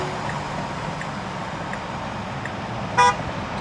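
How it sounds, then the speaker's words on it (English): A single short car horn toot sounds once from nearby Detroit traffic, cutting above a steady low rumble of road noise. "So people honking at us,"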